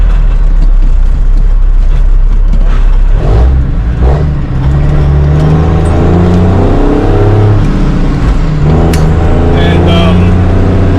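Peterbilt 362 cabover truck running bobtail without a trailer, a loud low diesel rumble that shifts in pitch as it pulls away, heard up close from inside with some talk over it.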